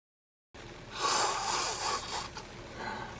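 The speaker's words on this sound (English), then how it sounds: "Go ahead and blow your nose for me." A single forceful nose blow during a medical exam, a broad rushing burst of air lasting a couple of seconds after a brief silence, close and fairly loud.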